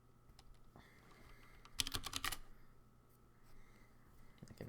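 A password is typed on a computer keyboard in quiet, soft key taps with a short quick burst of clicks in the middle, close and faint.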